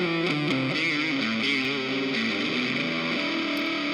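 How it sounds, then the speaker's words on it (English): A sustained distorted lead guitar line through an analog delay, echoing repeats trailing each note, loud and continuous, playing a slow melodic phrase in a rock mix. "So I'm using an analog delay here"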